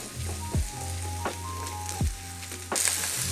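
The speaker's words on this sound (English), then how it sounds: "Give them a good stir in the pan." Carrots, onions and celery sauté in a pan with a steady, moderate sizzle, while a utensil scrapes and knocks against the pan a few times as they are stirred.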